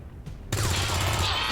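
Squad gunfire in XCOM 2, a sudden loud burst of rapid automatic fire that kicks in after a brief faint click and continues densely to the end, with no voices over it.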